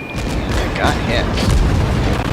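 Warship under enemy fire in the naval combat game World of Warships, loud dense booming shell impacts and rumbling explosions overlapping continuously, with no talk.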